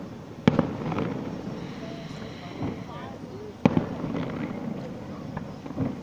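A firework show pops with sharp bangs, two prominent cracks a few seconds apart plus softer distant booms, under crowd noise and people talking.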